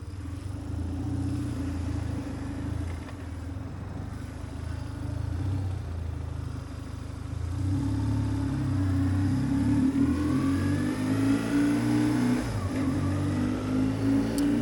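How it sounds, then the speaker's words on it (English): A car follows a motorcycle on a snowy rural road. A steady engine drone fills the clip and swells in the second half, with no talk. "Let's see where this car behind us is going to go."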